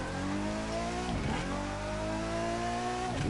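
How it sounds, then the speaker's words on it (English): Race car engine from the video game The Crew 2, revving loudly and steadily with a brief dip and throttle lift near the middle, crackles and pops breaking through the drone, no talking. "The crackles and the pops that this car gives off."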